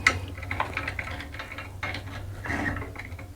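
A screwdriver pries a calcium-crusted old diverter out of a bathtub spout, giving faint close clicks and a few short scraping bursts against metal. No one speaks.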